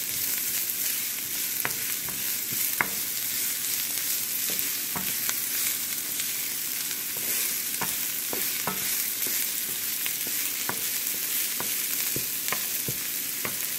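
Pork humba sauce caramelizes in a pan with a constant bright frying sizzle, punctuated by scattered crackles and occasional utensil stirring ticks, steady and close with no talking.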